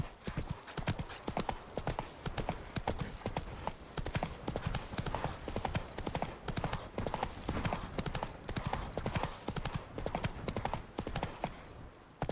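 The horse Roach gallops in The Witcher 3, hooves pounding in a fast, steady rhythm throughout, close and continuous with faint game ambience behind.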